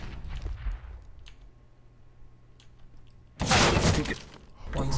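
A flashbang grenade in CS:GO on the Mirage map bursts with a sudden loud, bright crack that rings out over quieter game sounds, with faint clicks beforehand.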